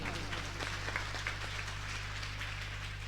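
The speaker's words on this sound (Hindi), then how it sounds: "एक जोरदार तालियां हो जाएं।" Steady applause from an audience at a Shrimad Bhagavat Katha religious discourse, a dense continuous patter of many hands clapping at moderate distance, heard on its own.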